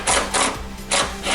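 Ratcheting tool turning out a bolt under the window regulator motor inside the front door of a BMW 7 Series E65/E66, three short rasping bursts in quick rhythm, close and loud.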